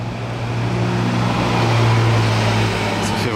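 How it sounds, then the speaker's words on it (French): A black Ferrari Testarossa rumbles by with a continuous low engine drone that swells slightly in the middle, with a steady mechanical hum beneath it. "Une belle Testarossa noire."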